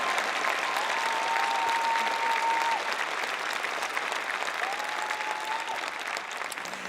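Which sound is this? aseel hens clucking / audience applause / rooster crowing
audience applause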